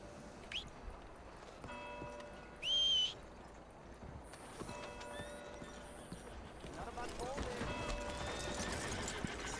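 Horse in Red Dead Redemption 2 outside a saloon, with hoof clip-clops and a brief bright whinny near the start, mixed with game background sounds and faint talk.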